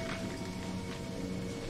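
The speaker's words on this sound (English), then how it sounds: "That is thick rain." Dense, steady downpour in the horror game Remothered: Tormented Fathers, set in Italy, a thick continuous hiss of heavy rain with no gaps, moderately loud and alone.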